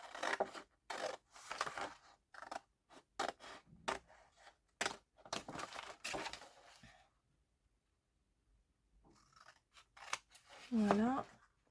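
Scissors snip through bag material along a marked line in a series of short cutting strokes, close and fairly clear, with a pause in the middle and a brief voiced sound near the end.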